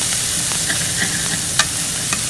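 Salt-roasted shrimp are stir-fried with chili and scallions, a loud close sizzle with soft stirring scrapes and one sharper clink of the spatula. There is no talk over it.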